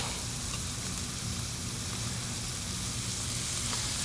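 80/20 ground beef frying in a pan with onion and jalapeno, making a loud, steady, dense sizzle that crackles continuously throughout, with no talking.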